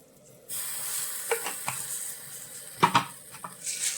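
Mushrooms sautéing in a pan for a mushroom masala, a steady soft sizzle with a few light stirring clinks and scrapes nearby.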